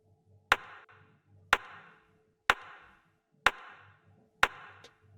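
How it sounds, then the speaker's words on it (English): Five short synthesized claps built from smooth and stepped noise generators, each a sharp white-noise burst with a very quick decay, evenly spaced about one second apart over a low hum, no voices. "this is just a little clap generated by some white noise"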